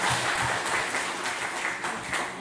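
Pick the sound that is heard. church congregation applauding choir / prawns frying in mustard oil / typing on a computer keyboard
church congregation applauding choir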